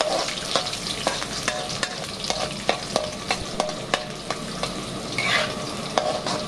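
Crushed garlic stir-fries in hot oil in a pot, a steady close sizzle broken by regular scraping strokes of the stirring utensil.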